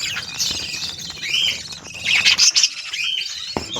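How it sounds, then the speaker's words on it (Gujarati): Caged sparrows chirping, a close flurry of sharp tweets and short calls in quick irregular bursts over a faint background hiss. "આપણા ચકલા જોઈ શકો,"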